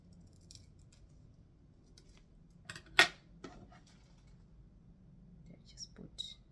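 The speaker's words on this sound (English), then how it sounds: "just putting your scissors like this and just cutting it diagonally" Scissors snip diagonally through ribbon on a bridesmaid's flower bouquet, one sharp close cut standing out among a few lighter clicks and handling sounds in a quiet room.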